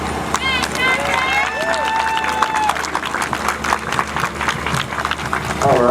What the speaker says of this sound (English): let's continue that applause